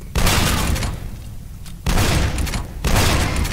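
Enemy cannon fire in the shooter game F.E.A.R., rapid bursts of heavy gunfire in loud volleys, three separate bursts with brief lulls between them, close and booming.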